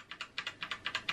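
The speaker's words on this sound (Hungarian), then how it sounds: "a barna switchtől ugye vártuk, hogy nem a leghangosabb" Typing on an XPERT-K500 mechanical keyboard with brown switches: a quick, even run of about ten crisp, moderately loud keystrokes, close and alone.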